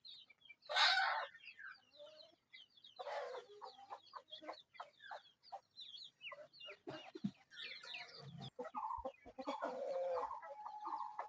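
Adult Colombian Light Brahma roosters and hens on a farm cluck and call, with repeated bursts of nearby fowl chatter over a few seconds and some louder squawks.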